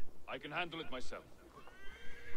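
In Assassin's Creed Valhalla, a horse gives a loud, close whinny that rises into a high squeal and then falls away. A fainter trailing call follows over soft ambient noise.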